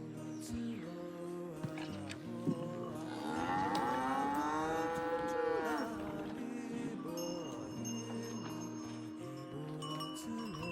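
Cattle mooing in a Himalayan village near Everest, one long drawn-out moo in the middle rising over a quieter background of other animal and farm sounds, with no voices.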